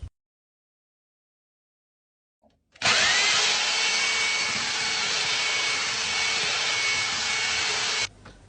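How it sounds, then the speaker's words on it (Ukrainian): A drill mixes mortar made from block adhesive in a bucket. After near silence and a faint bump, a loud, steady whirring churn runs for about five seconds, then cuts off abruptly. "за допомогою клею для блоків почали готувати розчин"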